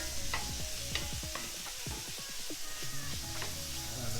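Lomo saltado sizzling and being stirred in a hot pan: a steady loud frying hiss with repeated scraping strokes of a utensil throughout.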